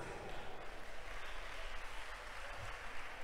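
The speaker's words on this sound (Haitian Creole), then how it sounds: "Encore une fois, mesdames, messieurs, applaudissez-les." An audience at a Miss Carrefour Avhistha pageant final applauds dance contestants with dense, continuous clapping, loud and even throughout.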